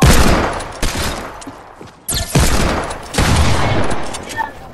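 Gunfire in a shooter video game comes as loud, close bursts and volleys with sharp repeated cracks in a choppy rhythm, and brief voices sound between the shots.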